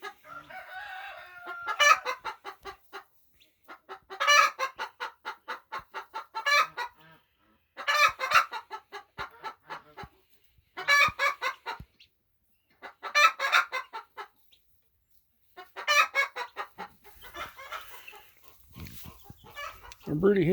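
Chickens in a poultry coop cluck in bursts of rapid repeated calls separated by short pauses, close and moderately loud, with a low voice briefly at the end.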